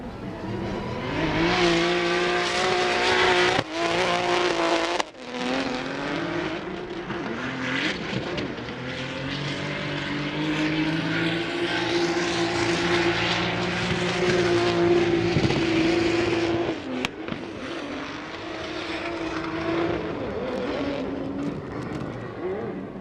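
Formula Drift car with a Link ECU drifting at a 2024 event, its engine droning loud and near with sustained high revs, brief drops and rises, under faint trackside commentary.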